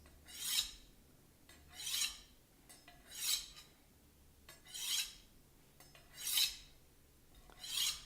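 A knife blade is sharpened by hand, stroked along alternate sides in six even, rasping passes spaced about a second and a half apart, close and clear with quiet gaps between.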